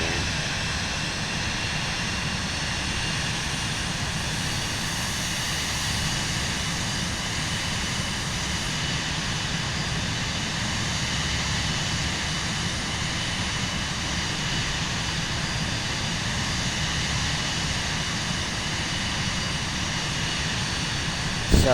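Steady, continuous aircraft engine drone inside Microsoft Flight Simulator 2024, loud and unchanging throughout, a dense broadband roar with a tonal hum and no noticeable rise or fall in thrust.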